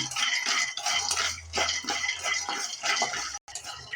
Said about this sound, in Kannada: ಅದೇ ಕಡಾಯಿಗೆನೆ ಒಂದು ಕಾಲು ಕಪ್ ಆಗೋಷ್ಟು ಶೇಂಗಾ ಬೀಜನ ಹಾಕೋತಾ ಇದ್ದೀನಿ ಇದು ಕೂಡ ಅಷ್ಟೇ ಲೋ ಫ್ಲೇಮಲ್ಲೇನೆ ಸಿಪ್ಪೆ ಬಿಡೋವರೆಗೂ ನಾವು ಹುರ್ಕೊಳ್ಳೋಣ